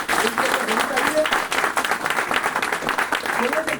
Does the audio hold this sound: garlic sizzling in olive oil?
no